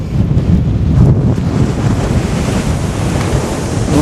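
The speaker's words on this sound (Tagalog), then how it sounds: "Oh, hinahangin oh, lakas ng hangin oh." Strong wind roars steadily into the microphone on a shore, buffeting in low rumbling gusts, with a faint wash of surf underneath and no voices.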